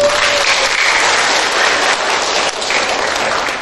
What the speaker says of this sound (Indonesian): Aplaus dulu saya.